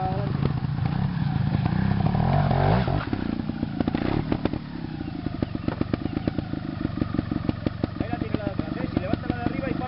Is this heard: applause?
no